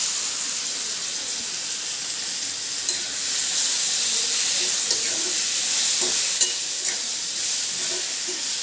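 Tomato sizzling as it fries in a pan for a Telugu brinjal and fenugreek curry, a steady close hiss with occasional stirring clinks and small pops.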